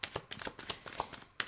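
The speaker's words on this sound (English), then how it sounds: "sometimes when I shuffle, you will see cards will literally fly out of the deck or they will flip over" A deck of tarot cards being shuffled by hand, a quick series of crisp riffling bursts close up, with a final sharp flutter at the end and no talk.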